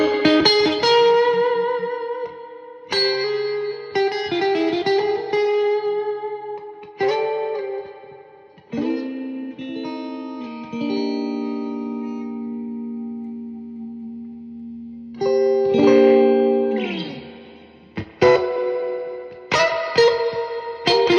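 An electric guitar played through a 1978 Princeton Reverb amp with heavy reverb rings out in sustained chords and single notes, with a long wash of reverb tails and pauses between phrases.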